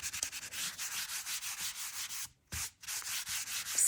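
Close rapid back-and-forth rubbing strokes as a baby wipe wipes sanding dust off a surface, in a steady rhythm with one brief pause.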